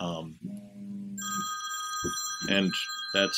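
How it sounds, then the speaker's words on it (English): A telephone rings with a steady electronic tone through the second half of a webinar on fraud prevention, entering after a voice and continuing in bursts as he speaks over it. "my phone ringing"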